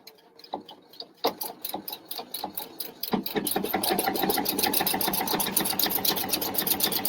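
A PFAFF sewing machine stitching a buttonhole, starting with a few scattered clicks and taps, then a rapid, steady mechanical whirring and ticking that runs loud and close to the end, with no speech.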